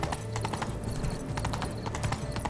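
Horse hooves clatter in a steady, quick clip-clop in The Witcher 3 video game, close and clear over a bed of game ambience.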